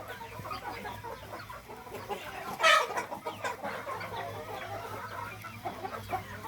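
Free-range fighting cocks and chickens on a Thai farm, with scattered clucking and one loud, sharp squawk or crow midway, moderately close over a low background hum.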